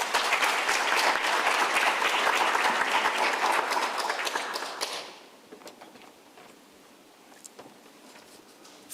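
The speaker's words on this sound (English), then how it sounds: "may we give Prof. Sizwe a warm round of applause" Conference audience at a digital technology event applauds a professor with dense, sustained clapping for about five seconds, then it thins out and fades to a quiet room with a few scattered claps.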